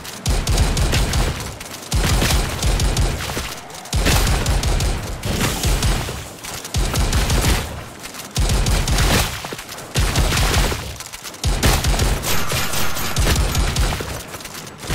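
Rapid automatic gunfire in a co-op VR zombie shooter on the Rotten Apple museum map, loud sustained bursts of several seconds each broken by short pauses, with no talk over them.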